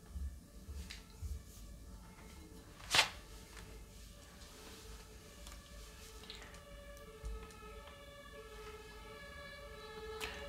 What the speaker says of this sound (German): schon wieder Tatütata.